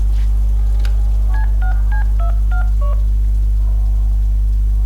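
A phone number dialed in the Deadpool video game, a quick sequence of about seven touch-tone beeps heard over a loud steady low hum, with no talking.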